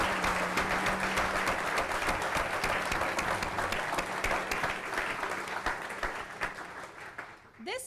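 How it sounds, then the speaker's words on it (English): A crowd applauds steadily in dense, sustained clapping that fades slightly near the end. "So please join me in a big round of applause."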